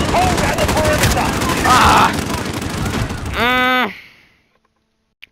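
Sustained gunfire in Call of Duty: Modern Warfare, a loud rapid burst of shots with a rattling weapon sound near the end, followed by a sudden cutoff into near silence and one faint click.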